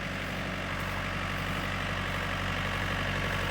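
A tractor engine runs steadily on a farm during tomato plant removal, a loud, continuous low rumble close by with no pauses.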